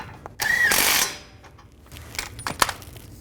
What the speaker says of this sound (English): Tighten up the lower shock bolt.